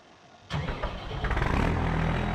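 A truck engine in Farming Simulator 25 cranks and fires up after a quiet moment, then settles into a loud, throbbing idle that builds slightly in intensity, heard close with no talk.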